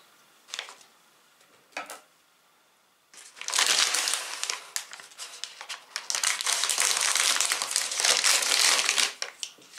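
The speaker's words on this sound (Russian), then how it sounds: "давайте же, наконец, эту упаковку откроем и посмотрим" A bag of Lorenz Naturals classic potato chips crackles as it is opened: a couple of brief crinkles first, then a long loud stretch of close-up rustling and crumpling plastic that stops abruptly near the end.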